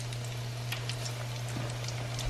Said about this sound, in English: And it's sizzling like that